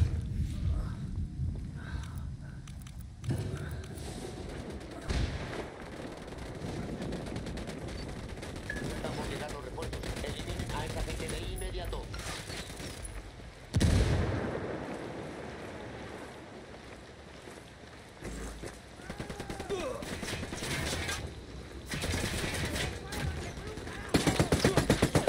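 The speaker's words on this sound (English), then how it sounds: "Unidad's firing on the cartel." Unidad troops open fire on cartel fighters in Ghost Recon Wildlands, with sustained bursts of automatic gunfire, scattered shots and a loud blast mid-way, all close and chaotic over rumbling background noise.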